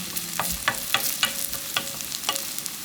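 Cabbage pancake batter fries over high heat, a close crackling sizzle punctuated by a regular series of five or six sharp clicks of a utensil against the pan.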